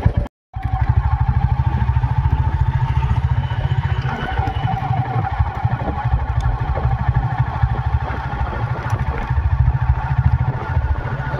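A Royal Enfield Classic 350 J-series motorcycle with a 349cc engine fires up after a brief silence and settles into a loud, steady thumping idle close by for the rest of the clip.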